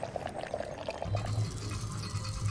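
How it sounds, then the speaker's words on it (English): Water pouring in the puzzle game Mystery Case Files: The Countess, a steady low splashing stream that swells and grows fuller partway through, heard alone at moderate level. "I think we have to pour water here"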